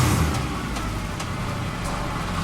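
A Mercedes W204 C63 AMG fitted with long-tube headers and a straight-piped exhaust rumbles loudly up close, with a brief rise at the start settling into a steady, deep, raspy drone.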